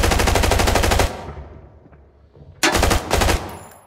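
An RPK machine gun fires a rapid, loud burst in a video game, stops for a second or so, then fires a second shorter burst, both close and dominant.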